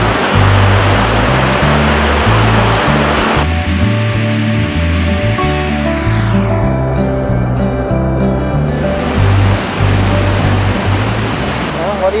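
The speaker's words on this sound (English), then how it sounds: "what do you think of the waterfall?" Tahquamenon Falls, the brown-tinted "Root Beer Falls," roars as a loud, constant rush of falling water close by, with voices speaking faintly under the steady noise.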